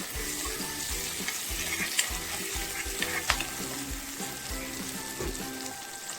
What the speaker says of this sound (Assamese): এতিয়া পিঁয়াজ দি এইখিনি লৰাই থাকিম।